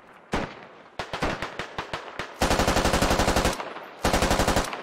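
Gunfire in the tactical shooter Squad: a single loud shot, then a run of sharp rapid shots, a long sustained automatic burst, and a final burst, close and with no voices.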